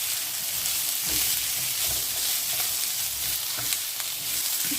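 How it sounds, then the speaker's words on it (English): Steady crackling sizzle of food frying in a hot pan, continuous and close, with occasional louder pops and stirring scrapes. "I'm just literally just frying this now for about 30 seconds."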